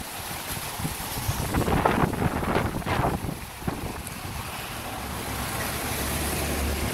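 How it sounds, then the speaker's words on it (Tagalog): Strong gusts of seashore wind buffet the microphone in loud, rumbling bursts, with the roar of surf behind, easing slightly midway and then holding steady to the end, with no talking. "Pati yung mga sombrero ko sa lakas ng hangin."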